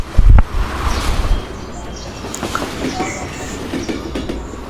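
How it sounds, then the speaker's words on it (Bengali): The Panchagarh Express passenger train pulls into a station platform, with a loud thump at the start followed by rolling wheel clatter, faint squeals and a steady low rumble under distant voices. "পঞ্চগড় থেকে ছেড়ে আসা পঞ্চগড় এক্সপ্রেস ট্রেনটি আর অল্প কিছুক্ষণের মধ্যেই 5 নম্বর প্ল্যাটফর্মে প্রবেশ করবে।"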